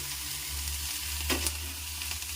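Spice paste of mustard, ginger, cumin, coriander and turmeric frying in a pan for a greens dish, a low continuous sizzle with a brief scraping stir in the middle over a faint steady hum.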